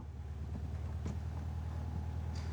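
A Porsche 914 in Phoenix Red on a test drive, its engine holding a steady low drone with road rumble throughout, close and continuous, with no talking.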